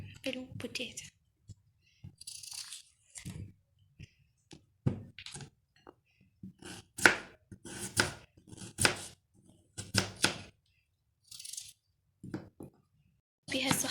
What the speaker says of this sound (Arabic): جاي نقطع البوتيتو